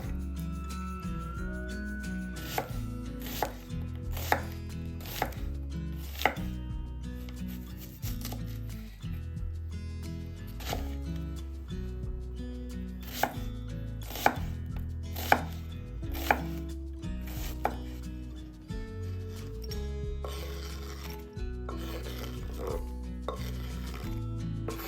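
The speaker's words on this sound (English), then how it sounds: "Chop 1 red onion." A knife chops a red onion on a board in crisp, steady strokes, the regular taps repeating for a long stretch over a quiet kitchen background.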